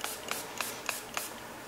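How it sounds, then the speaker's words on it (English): Five quick, evenly spaced spritzes of rubbing alcohol from a spray bottle onto cold process hemp soap, each a short hissy burst, close and fairly quiet. "And then spray the top with rubbing alcohol."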